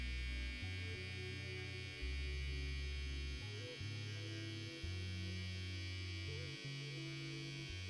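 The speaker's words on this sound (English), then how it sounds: "Using the corner of my trimmer." An electric hair trimmer cutting a drop fade along the temple, a low, steady motor buzz that hums continuously at a close, quiet level with slight shifts in tone.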